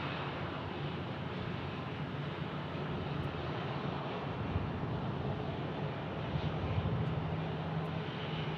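A small Citation jet at Phoenix Sky Harbor Airport produces a steady, broad engine roar with wind noise, held at an even level throughout and heard from a moderate distance.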